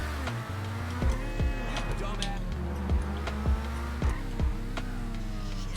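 The Progen Emerus supercar in GTA 5 slides and revs, its engine note rising and falling in repeated surges with ticking transients, fairly quiet and mixed under game sounds.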